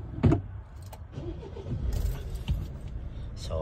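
A faulty Toyota car with an engine fault is started: keys jangle and click near the ignition, then the engine catches and settles into a low, steady idle rumble.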